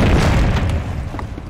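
A heavy explosion in the World War II strategy game Company of Heroes, during a battle under enemy fire: a loud, close boom with a deep rumble that slowly fades over a second and a half.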